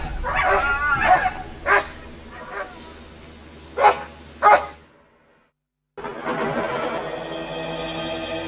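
Dogs bark at a polar bear on the late-summer shore of Hudson Bay: a string of loud, sharp barks and yips, then a brief hush before a steady windy rush takes over.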